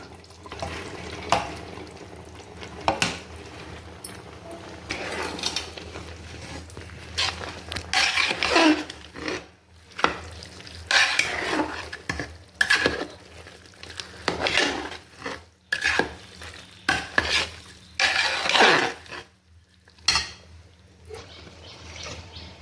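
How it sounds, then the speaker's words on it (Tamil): Cooked rice being stirred into country-chicken biryani in a pot, a long stretch of uneven scraping and soft clattering strokes with brief pauses, close and moderately loud, no talk. "இப்போ நம்ம வடித்து வச்ச சாதத்தை இதோட போட்டு மிக்ஸ் பண்ணிக்கலாம்."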